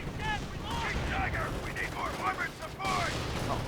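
Assault rifle fire in the World War II strategy game Company of Heroes: Panzer Elite, bursts of gunfire and distant battle noise in a dense, continuous mix, moderately loud with a brief lull midway.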